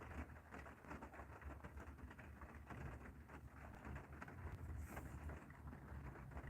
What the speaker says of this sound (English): You hear rain?